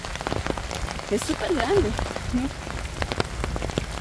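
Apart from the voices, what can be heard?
rain falling on a rainy day in El Salvador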